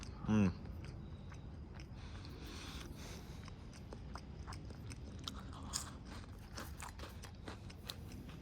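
Someone chewing a saltine-like cracker from a 1998 US cold weather ration, close and faint: one sharp bite at the start, then soft crunching and scraping that continues with small crackles.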